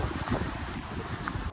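Cold wind on a mountain hike near Mount Charleston roars steadily across the microphone in a brief, loud, continuous buffeting with no talk.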